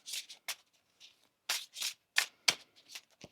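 Tarot cards are shuffled close by in several quick, crisp riffling bursts separated by short pauses.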